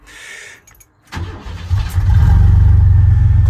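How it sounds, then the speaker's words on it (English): A 1992 Chevrolet Cheyenne pickup engine cranks briefly, catches, and settles into a loud, steady idle after a few seconds of quiet clicks. "So the engine starts."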